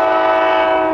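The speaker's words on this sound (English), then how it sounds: "we got a train coming up the grade, don't know who it is. It'll be a coal train." A CSX coal train hauled by ET44AH locomotives sounds a loud, sustained horn blast as it climbs a grade at Edwards Street in Lincolnton, close and steady throughout.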